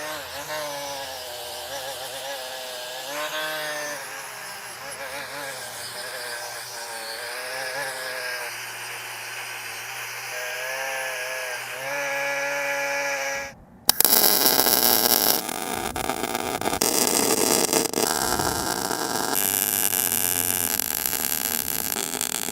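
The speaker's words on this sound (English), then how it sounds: "we'll fire up the welder and burn these guys on" An arc welder joins steel parts for a giant edge sander outdoors. A steady tonal machine whine comes first, then breaks sharply into a loud, continuous crackling buzz that holds to the end.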